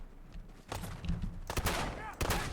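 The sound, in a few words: gunfire in the video game Fallout 4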